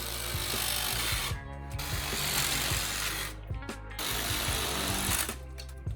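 A power tool cuts through a cracked front grille on a Toyota KE70-era car, grinding in loud continuous bursts broken by brief pauses, close to the microphone with no talking.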